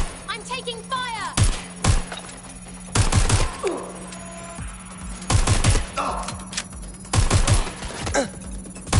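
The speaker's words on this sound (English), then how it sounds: "I'm taking fire!" Bursts of gunfire in the game Watch Dogs Legion, several loud, sharp volleys spaced a second or two apart, with in-game talk and effects between them.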